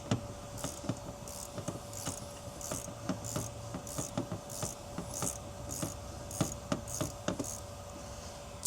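A ratchet with a number 18 socket loosens the automatic gas shutoff switch on a Pentair MasterTemp pool heater, making faint, evenly paced rasping clicks about twice a second over a thin steady hum.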